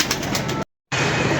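A racing pigeon arrives with a close, loud burst of rapid wing flapping, a dense whirring flutter broken by a brief gap before it resumes.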